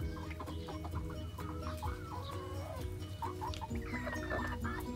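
Chickens cluck steadily in a new backyard coop, several hens overlapping in close, busy chatter with short higher calls breaking through.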